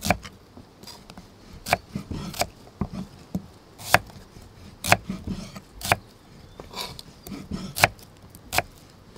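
A knife chops shallots on a board in sharp, irregular strokes, some in quick pairs, loud and close with a quiet background.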